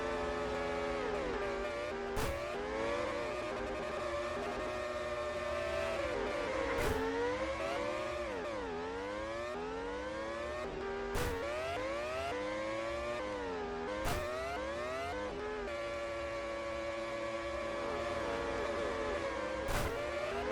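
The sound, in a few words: Formula 1 style race cars in video game Ultimate Racing 2D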